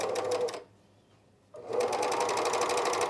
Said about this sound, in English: we're just going to start sewing